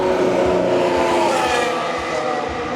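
A Formula 1 car runs a practice session at Spa-Francorchamps in Belgium, its engine a loud, sustained high-pitched roar that holds close and steady throughout with slight rises in pitch.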